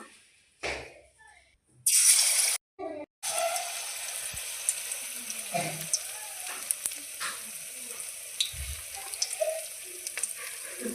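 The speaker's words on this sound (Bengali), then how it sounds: "তেল গরম হয়ে গেছে। এখন আমি পকোড়া ছেড়ে দিব।" Oil sizzling steadily as mushroom pakoras fry, with a few scrapes and clinks of utensils and a brief louder burst near the start.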